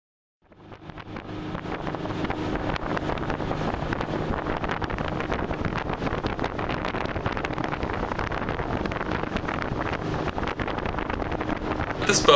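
A sightseeing boat out on the water near Deception Pass, Washington, with a steady broadband rush of engine, water and wind buffeting the microphone, fading in at the start and holding loud and constant throughout.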